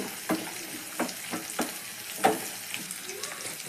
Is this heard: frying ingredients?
yes